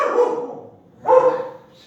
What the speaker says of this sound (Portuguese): é a cachorra latindo